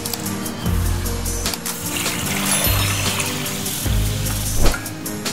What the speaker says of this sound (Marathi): हे सगळे आपण स्वच्छ 2-4 पाण्याने धुवून घेणार आहोत